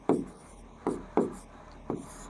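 Chalk or marker strokes on a board during a classroom lesson: four short scraping writing strokes, close and fairly loud, with no one speaking.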